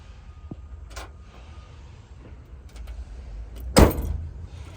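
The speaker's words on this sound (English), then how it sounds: "trunk closes nicely." Trunk lid of a 1971 Chevrolet Nova slams shut with a single loud thud near the end, preceded by quieter clicks and rustles close by.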